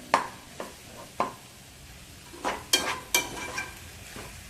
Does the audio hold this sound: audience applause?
no